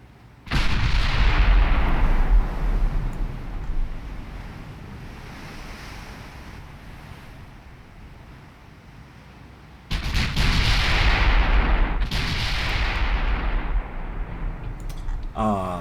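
Naval gun turrets firing in the Ultimate Admiral Dreadnoughts warship game: two heavy booming salvos, each rolling into a long rumbling wash like surf and wind, loud and sustained.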